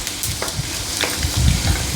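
Thinly sliced okra fries in coconut oil with mustard seeds, a close, steady sizzle broken by a few soft pops and stirring bumps.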